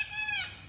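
A short, loud bird call rings out briefly from birds in a nearby tree, with a bright, harmonic tone, like a single squawk.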